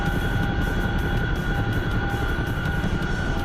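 A fixed-wing aircraft drones steadily overhead in a combat flight game, a continuous engine hum with faint tonal whine holding level throughout.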